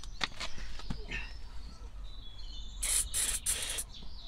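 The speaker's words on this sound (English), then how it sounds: "Do you want to spray a bit more easy starting there?" Starting fluid sprayed from an aerosol can into the engine of a 1970 Volkswagen Type 2 bay-window van, heard as three short bursts of hiss in quick succession against faint background noise.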